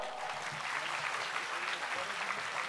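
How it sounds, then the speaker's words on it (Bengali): At an annual prize distribution ceremony, a gathering applauds as gifts are handed to the guests. The clapping is steady and fairly quiet, a continuous patter of many hands sounding somewhat distant. "উপহার তুলে দিচ্ছেন, একটু হাততালি দাও"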